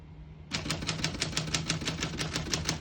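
A 1935 Corona Standard portable typewriter being typed on up close, a quick, even run of sharp key strikes starting after half a second of quiet room hiss and continuing steadily.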